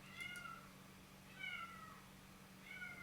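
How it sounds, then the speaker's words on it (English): A pet cat meows loudly three times in a row at even intervals, close by, each call a rising and falling wail over a steady low hum, with no talking. "but she's still meowing"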